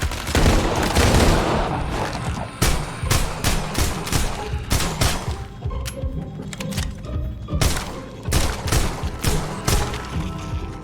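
Rapid, heavy bursts of automatic gunfire from a new gun in a VR zombie game, loud and close, coming in repeated volleys with short gaps and dull thuds between them.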